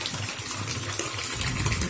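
Drumstick leaves are washed under water: a steady, loud, continuous rush of running water fills the whole short stretch without a break, with no voices.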